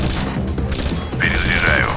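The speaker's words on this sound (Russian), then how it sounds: "Перезаряжаю." Weapon reload in Rainbow Six: Vegas, a quick run of mechanical clicks and ratcheting metal handling up close, followed by a brief high whine, all over steady in-game background noise.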